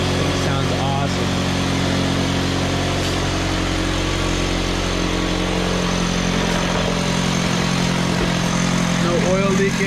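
A Saab 9-5 Aero with 200,000 miles idling nearby, a steady mid-pitched engine hum running throughout, with someone talking over it.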